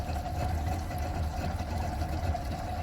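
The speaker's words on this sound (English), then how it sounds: "The boat's powered by a Mariner Bigfoot 60. Doesn't miss a beat." A Mariner Bigfoot 60 outboard engine running on a fishing boat off Southampton, a steady, even droning hum with a low rumble and a faint whine, continuous and unvoiced.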